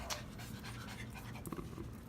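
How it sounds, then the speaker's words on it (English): Old dogs pant close by, a quick steady rhythm of breathy huffs that continues without a break and without speech. "I guess we're starting off the video with my dogs."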